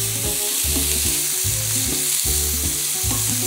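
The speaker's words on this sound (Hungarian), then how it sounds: "Látjátok, ilyen szépen megpirult a brokkoli." Broccoli fries with spices in a coated pan, a loud steady sizzle close up with rhythmic stirring or tossing strokes repeating about every half second, no voices.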